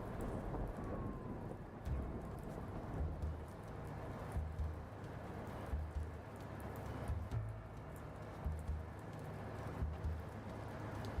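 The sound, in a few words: thunderstorm with rain and lightning in Blacksad: Under the Skin video game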